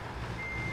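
Truck reversing beeps in American Truck Simulator, a brief steady tone heard over a constant low engine rumble.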